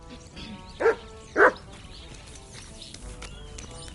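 A dog in Kingdom Come Deliverance 2 gives two short, sharp barks close by, separated by about half a second, over quiet game ambience.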